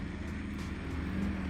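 An 800hp Nissan R35 GTR drifts in the snow, its engine a steady low, loud droning roar throughout a brief moment.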